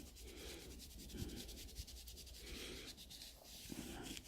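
A cloth loaded with Meguiar's polish, backed by a flat straight edge, is rubbed over a car's clear coat. Quiet, rhythmic back-and-forth rubbing strokes repeat steadily, close up and faint.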